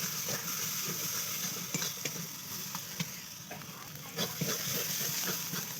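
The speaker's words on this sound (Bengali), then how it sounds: "মাছ কটা দিয়ে আবার কষিয়ে নেব ভালো করে নাড়াচাড়া করে নেবো" A spoon stirs and scrapes a mash of jiol and lyatha fish frying in a kadai, with steady close sizzling broken by repeated clacks and scrapes of the spoon against the pan.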